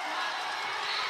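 A loud crowd cheering at a university national track and field championships during a women's relay race, a brief dense wash of distant voices and shouts.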